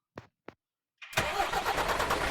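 In a truck simulator game, two soft clicks come first, then the truck's engine cranks and catches, settling into a steady, rumbling idle.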